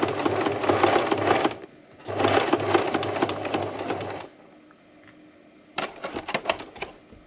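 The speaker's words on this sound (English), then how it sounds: "I'll begin maybe sewing from this part here" A sewing machine stitches fabric scraps for a choker in loud, rapid mechanical bursts, running in two long stretches with a pause between, then a quiet gap and a short final run.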